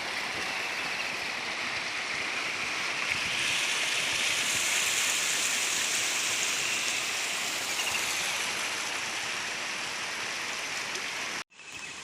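A village stream swollen after heavy monsoon rain rushes in a steady, loud, continuous roar of flowing water that cuts off abruptly near the end.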